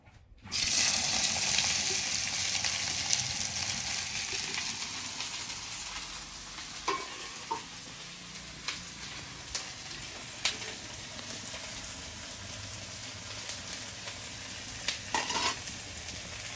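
Steady loud sizzling of onions frying in hot oil, with occasional clinks and scrapes of a utensil against the pan.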